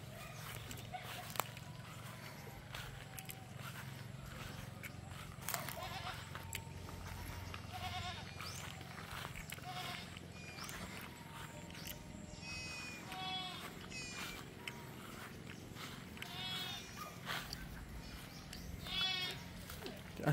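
Young goats on a farm bleat in repeated short, wavering cries, some near and some farther off, over a low steady background hum with occasional footsteps.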